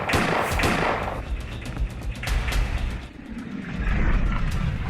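Gunfire from the Free Fire survival video game sounds as a flurry of sharp, loud shots and bursts in quick succession, with thumping impacts and a rumbling backdrop throughout.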